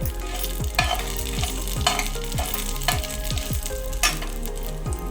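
Tomato pieces frying in a pan for a mixed vegetable curry, with a steady close sizzle and repeated stirring scrapes about once a second, no talk.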